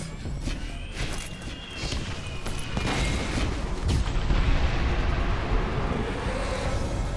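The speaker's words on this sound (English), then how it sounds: "Enjoy these fucking grenades." Grenades go off in the Borderlands video game, a run of heavy booms and rumbling blasts that merge into a continuous roar of explosions over several seconds.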